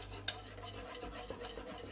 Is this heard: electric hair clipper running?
no